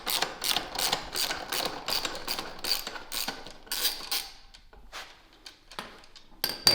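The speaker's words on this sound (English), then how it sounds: "you're gonna back this bolt off right here. That bolt on the bottom of the kickstand" A hand ratchet backs off the bolt at the bottom of the kickstand on a 2021 KTM 500 EXC, giving quick rhythmic clicking bursts close up in a workshop, pausing briefly near the end.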